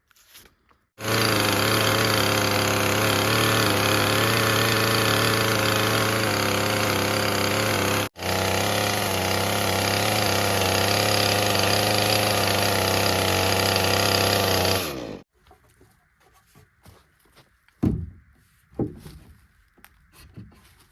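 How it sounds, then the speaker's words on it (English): A chainsaw running continuously at high revs while smoothing a log for cabin window framing, loud and close for about fourteen seconds with a momentary break, then cutting off to quiet knocks and handling noises. "I'll just go back and forth with my chainsaw, smooth it out"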